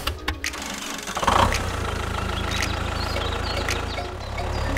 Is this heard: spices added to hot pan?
no